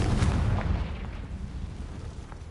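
A Confringo spell explodes in the Hogwarts Legacy video game, a loud booming blast up front followed by a decaying rumble and a few smaller crackling pops.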